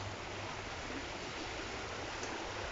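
River water running in a thin, narrow stretch of channel near a village at Sandsend: a continuous broadband rushing flow, steady and fairly close, with no voices over it.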